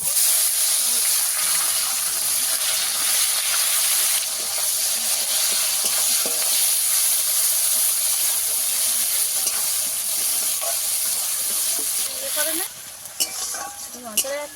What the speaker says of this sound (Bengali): ফোড়নে দেবো গরম মশলা দুটো তেজপাতা কুচানো পেঁয়াজ